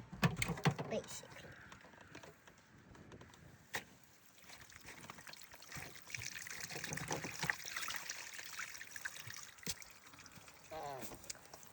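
A faulty Miele washing machine's pump drains water, producing a continuous trickling, gurgling flow with a low mechanical hum, heard fairly quietly with occasional clunks.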